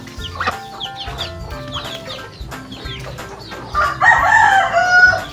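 Chickens cluck repeatedly at close range on a poultry farm, with a rooster crowing loudly near the end over the flock's chatter; no one speaks.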